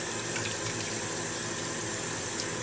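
Water runs steadily at a sink while a face is rinsed, a constant close hiss of flowing and splashing water with no voices.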